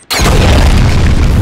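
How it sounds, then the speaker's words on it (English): A grenade goes off in the video game Uncharted 3, a single sudden, loud boom that fills the whole clip and then rumbles on without fading. "That dude picked up the nade and exploded right away"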